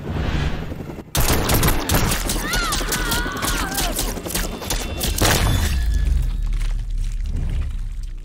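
Air support gunfire rains down in Mortal Kombat 11, a dense fusillade of rapid shots and booming impacts that starts abruptly after a brief pause and roars on loudly for several seconds, with whooshing streaks overhead.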